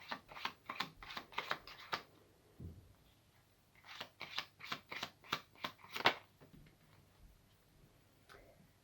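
Tarot cards are riffled and snapped in two rapid bursts of crisp, evenly spaced flicks, separated by a quiet pause, with a soft lone tap at the end.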